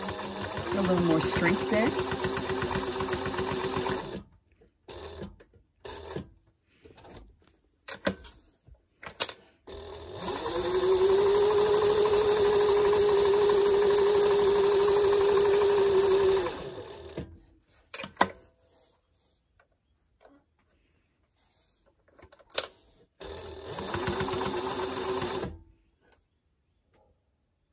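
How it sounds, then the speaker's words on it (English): A sewing machine back tacking over the folds of a fabric face mask, running in short bursts and one long steady stretch, with clicks and pauses in between and a voice talking in places. "I back tack over each fold"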